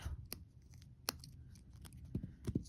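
Scissors cut a short strip of electrical tape in a quiet room, making a few faint, sharp snips spread across the moment.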